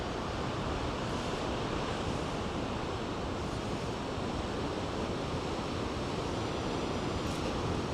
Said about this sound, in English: There's something so hypnotic and calming about the waves, especially when you're on the shore looking out.